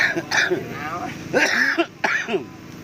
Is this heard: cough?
yes